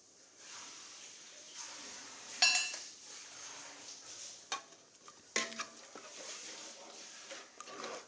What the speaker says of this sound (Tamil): நல்லா கலக்கிக்கலாம்